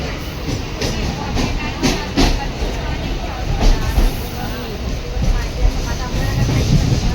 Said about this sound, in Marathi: चला मंडळी, आता ट्रेनमध्ये बसलेलो आहोत. घरचा प्रवास परतीचा चालू झालेला आहे.